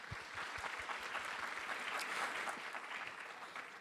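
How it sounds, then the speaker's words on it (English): Steady applause from a conference audience at a business forum session in Thailand, dense and continuous clapping at moderate distance that holds evenly for the whole stretch with no voices on top. "please join me to give a big round of applause to our esteemed speakers"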